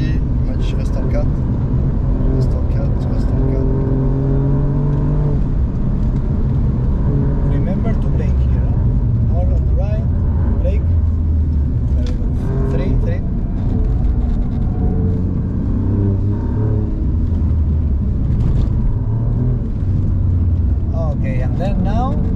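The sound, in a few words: car accelerating through gears on a race circuit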